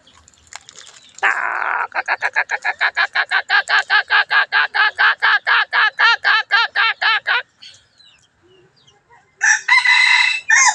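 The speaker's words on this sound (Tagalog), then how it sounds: "Ayan po yung kanyang tilaok" A red junglefowl rooster crows loudly up close in one long drawn-out call with a rapid pulsing rattle, followed by a short burst of a second crow.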